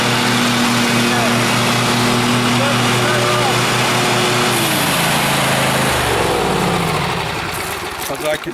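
Husqvarna riding lawn mower tractor, a flood-damaged machine, runs with a steady loud engine drone up close, its pitch shifting midway as the throttle changes, with a person speaking over it.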